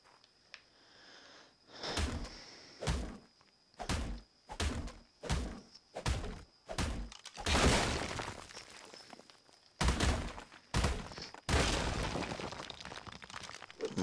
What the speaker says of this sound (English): They locked their smithy, we're just gonna have to destroy it.